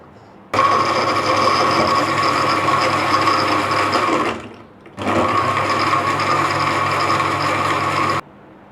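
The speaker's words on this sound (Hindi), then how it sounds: "इस स्टेज पे हम इसमें थोड़े से आइस क्यूब्स डाल देते हैं। अब इसको ब्लेंड करेंगे।" An electric blender whirs a strawberry milkshake with ice cubes in two loud, steady bursts of about four and three seconds, with a short pause between them.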